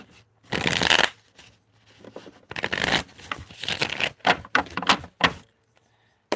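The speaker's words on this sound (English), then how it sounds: "One more shuffle." Several bursts of tarot card shuffling, crisp riffles and rustles separated by short pauses, close up with no talking.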